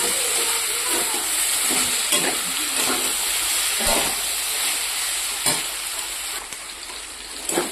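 Food frying in a pan being stirred before coriander leaves go in, a loud steady sizzle broken by a few sharp scrapes and knocks of the spatula, with no voices.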